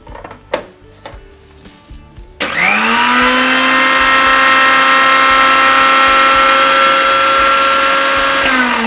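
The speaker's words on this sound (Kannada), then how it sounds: "ಮಿಕ್ಸಿನಲ್ಲಿ ಅಂತ ಗ್ರೈಂಡ್ ಮಾಡ್ಕೊಂಬಿಡೋಣ" A mixer grinder (mixie) grinds ingredients with a little water. After a few soft handling knocks, the motor kicks in loudly and runs as a steady, high whirring roar to the end.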